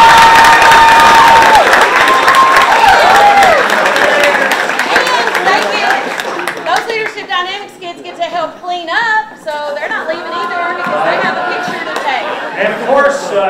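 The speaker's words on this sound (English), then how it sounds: "One more round of applause for those students." Audience at the Mr Colonel 2022 pageant applauding and cheering for the Leadership Dynamics students, loud mixed clapping with shouts and whoops, settling into scattered cheers and crowd chatter, with a voice over the start.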